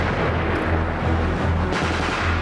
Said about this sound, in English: This is going to be our most casualty producing weapon right here. Test fire!